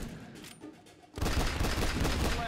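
Gunfire breaks out in XCOM: The Bureau, a video game. After about a second of quieter game sound, a loud, dense burst of shots fills the rest of the clip as a continuous barrage.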